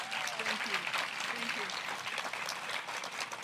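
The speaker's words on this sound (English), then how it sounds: "give your fearless leader a big round of applause" Audience applause at a Trinity Washington University academic center dedication, a steady wash of clapping that fills the whole clip, with faint voices mixed in underneath.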